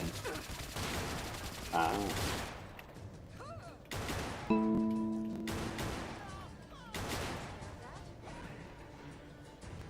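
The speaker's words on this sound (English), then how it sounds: "bandits opening fire with machine guns" Bandits in a modded Skyrim game fire machine guns in repeated loud bursts and heavy impacts across several seconds, with a brief tonal game sound and a short exclamation from a player.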